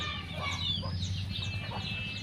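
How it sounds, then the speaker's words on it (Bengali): Chickens cluck softly and continuously close by while eating feed mixed with turmeric, a busy low murmur of fowl sounds with no talking. "কাঁচা হলুদ গুঁড়ো হলুদ দিয়ে মাখিয়ে দেওয়া হয়েছে মুরগিগুলো খাচ্ছে"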